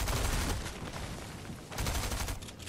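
Rapid, overlapping gunfire from the video game Fortnite crackles in dense, loud bursts for almost the whole stretch, with a brief dip before the shooting surges again.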